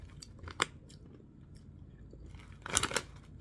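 Salt and vinegar potato chips from a Rap Snacks bag being chewed up close, with quiet crunching and two sharper crunchy bites, one early and a louder cluster near the end.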